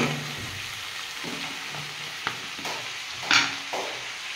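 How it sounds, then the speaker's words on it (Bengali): Radish greens (mulo shak) frying in an uncovered pan, a steady close sizzle broken by scraping and clattering stirs and a louder spatter near the end. "এবার এটাকে আমি ভেজে নেবো ভালো করে"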